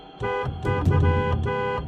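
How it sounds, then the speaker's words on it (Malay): A car horn blares in several long, loud honks, close and harsh, repeating in a steady pattern over engine rumble. "membunyikan horn"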